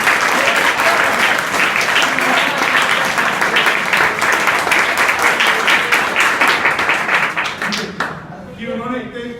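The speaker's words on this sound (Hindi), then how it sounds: "प्रिंसिपल सर के लिए धन्यवाद और ताली प्लीज" Students at an inter college adolescent education program applauding their principal, loud sustained clapping from a large group with sharp individual claps, fading out near the end as a voice starts speaking.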